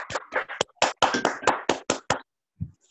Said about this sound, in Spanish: Aplauso para todo el mundo.